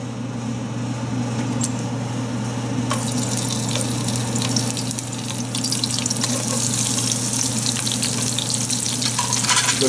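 Chilies and a bay leaf fry in about two tablespoons of hot oil over medium-high heat, a steady close sizzle and crackle that grows busier and louder partway through, with no talking.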